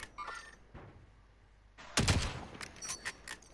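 Sniper rifle fire in Warzone: a few isolated shots over quiet background, led by one loud, booming crack with a ringing tail and followed by fainter distant reports.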